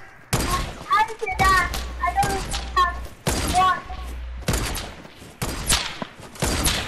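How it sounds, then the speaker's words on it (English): Shotgun blasts ring out in a video game in several loud, sharp bursts spread across the stretch, with someone talking excitedly between and over the shots. "Are you shooting my shotgun already?"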